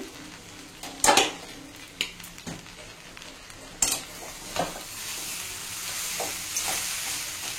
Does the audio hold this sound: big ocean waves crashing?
no